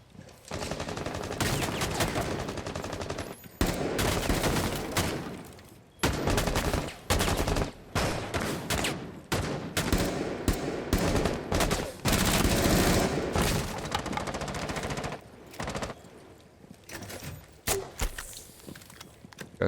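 Rapid video game gunfire in a competitive shooter match, with loud, dense bursts of automatic and shotgun fire repeating in quick volleys and short pauses, close and sharp.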